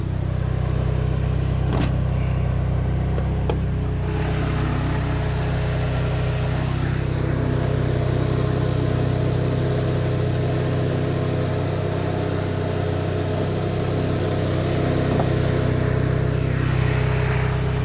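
Supercharged G60 engine of a modified VW Corrado running steadily, a loud continuous low drone with a faint whine on top and a few brief clicks early on, no speech over it.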